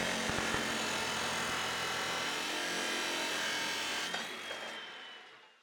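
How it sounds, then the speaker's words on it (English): A belt grinder fitted with a brand new belt profiles a camp knife blank, giving a steady, fairly quiet abrasive rasp that fades out near the end. "I'm literally going to draw it with my grinder."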